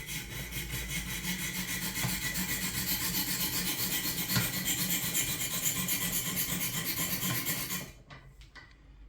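A knife blade rasps in steady, rapid strokes against the abrasive stones of a Wicked Edge 100 sharpener, a continuous close scraping that stops abruptly near the end, followed by a few light taps.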